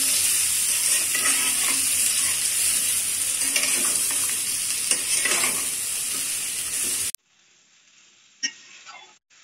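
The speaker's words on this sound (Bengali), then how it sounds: "লো ফ্লেমে রেখে তারপর কিন্তু আমড়াগুলি আমি কষিয়ে নিচ্ছি" Hog plums (amra) for a sweet-sour-spicy amra achar are stir-fried in a pan over a low flame, giving a loud, continuous sizzle with stirring, then a quieter stretch with a few sharp scrapes.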